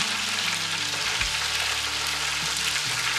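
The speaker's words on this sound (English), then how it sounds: "it says just take a spoonful and drop it down into the oil." A spoonful of batter frying in hot oil for a fish fry, a steady close sizzle and crackle that holds evenly throughout with a low hum underneath.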